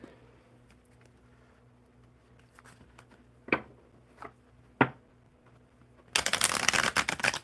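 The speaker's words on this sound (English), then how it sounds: "I'm just going to keep shuffling until I know who I'm reading next." Tarot cards riffle-shuffled by hand during a reading, soft scattered card taps and two sharper snaps, then a dense, loud burst of rapid fluttering shuffling near the end.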